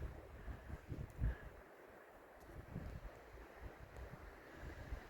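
Winter wind gusting across open country above a full water hole, a steady rushing roar with low buffeting swells and a stronger gust near the start, heard alone without voices.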